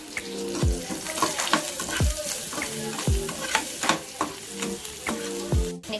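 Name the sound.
onions with turmeric frying and being stirred in a pan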